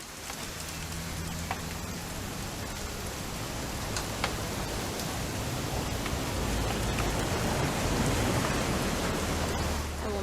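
Steady rainfall in the video game What Remains of Edith Finch, a soft continuous patter of drops on surfaces at a low level, with scattered brighter drip ticks and a faint low hum underneath, no voices.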